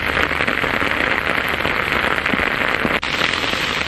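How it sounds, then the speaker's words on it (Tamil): Moderate rain pours down steadily, a dense, hissing patter with scattered crackling drops, close and full, continuing without a break and with no voices. "திடீரென மழை பெய்தது"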